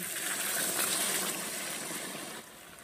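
Water pours into a pan of cooking vegetables, a steady rushing gush that holds for over two seconds and then drops off slightly, with no voices over it.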